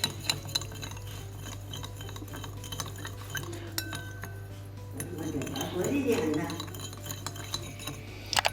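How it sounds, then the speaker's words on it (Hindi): A metal spoon clinks and scrapes against a pot or glass while stirring sugar into milk for an egg breakfast dish, a steady low hum underneath and the stirring growing busier toward the end. "चीनी को दूध में अच्छी तरह मिक्स करें।"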